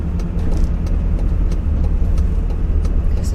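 A van drives along a road, its engine a steady low rumble with road and tyre noise filling the cabin throughout, loud and continuous with no talk.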